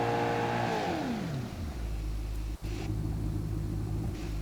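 A modified Ford racing EcoBoost engine in a 2015 Ford Mustang in BeamNG.drive revs loud and close, its pitch sweeping down from a high scream into a deep, steady rumble with a brief cut partway through.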